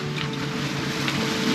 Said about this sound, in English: that's why I've got the engine on